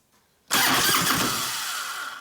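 A 1996 Harley-Davidson FXST Softail with an 80ci Evo engine catches on the starter button in a home garage, bursting from near silence into a loud, steady, close-up roar that holds without pause and with no talking.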